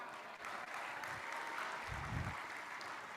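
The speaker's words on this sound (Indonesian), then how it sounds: "Tepuk tangan sekali lagi buat Bapak Presiden kita" Applause for the President at an Indonesian official ceremony, a broad steady crackle of many clapping hands sustained throughout, with low rumbling handling thumps underneath.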